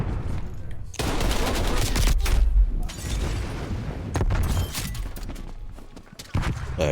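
Video game combat with a grenade blast and dense gunfire, loud booms and rapid overlapping shots filling the whole stretch with only brief dips between volleys.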